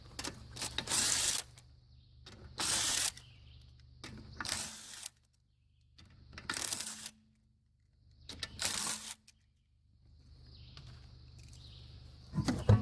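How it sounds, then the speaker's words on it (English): An impact wrench fitted with a 19mm socket on an adapter spins off Subaru front wheel lug nuts. Five short, loud buzzing bursts are separated by quiet gaps, with no voices. "I like to use my impact with a socket adapter, 19mm, makes it a little faster."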